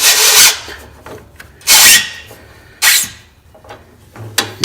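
A filter wrench grips and scrapes against a small oil filter on a John Deere Z930M zero-turn mower, giving three bursts of rough rubbing and grinding separated by quieter stretches, close and fairly loud, with no voices.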